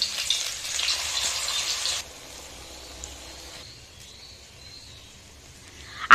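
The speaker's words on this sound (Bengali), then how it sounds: "তাহলে আস্তে আস্তে জাল দিয়ে এই বড়াটা বানাবে" Lentil fritters (bora) fry in hot oil with a steady hiss and crackle, loud at first, then quieter and softer, with no one talking.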